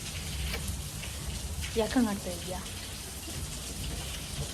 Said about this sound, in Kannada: ಸಿಕ್ಕಾಬಟ್ಟೆ ಮಳೆ ಹುಯ್ತಾ ಇದೆ, ತೋರಿಸ್ತೀನಿ.